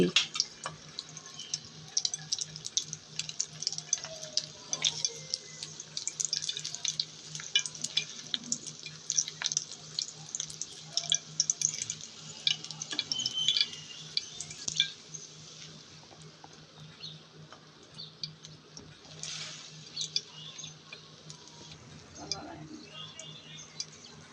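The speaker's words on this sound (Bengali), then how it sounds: "আমি কিন্তু একটি একটি করেই কাবাব ভেজে নিচ্ছি আপনাদেরকে দেখানোর জন্য" Egg jali kabab fries in a pan with a steady crackling sizzle and small sputters throughout. Occasional soft clinks of utensils cut in, and there is no talking.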